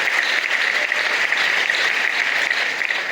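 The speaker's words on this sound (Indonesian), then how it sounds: "Tepuk tangan untuk Kun Karimah." Seminar attendees at an Islamic boarding school in Banten give loud, dense applause, a thick continuous rush of many clapping hands that stays strong and even throughout, with no speech over it.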